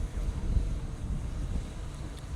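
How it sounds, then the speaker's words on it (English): Gusty wind buffets the microphone outdoors at a canal breach repair site, a continuous low, rumbling roar that fills the whole stretch with no talking. "Now, it's suddenly got very windy,"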